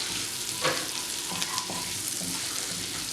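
Ginger-garlic paste with oregano fries in oil for a potato curry, a steady close sizzle with a few stirring clinks and scrapes, no voices.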